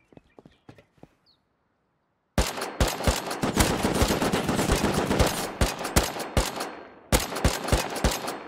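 Sustained light machine gun fire in the Rust video game, loud rapid automatic bursts beginning after a few sparse quieter shots, continuing with brief gaps and ending in another close burst.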